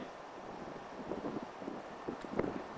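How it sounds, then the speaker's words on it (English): Blustery outdoor wind rumbles and buffets the microphone in a steady roar with occasional louder gusts near the end. "As you can hear, maybe here it's a little bit blustery."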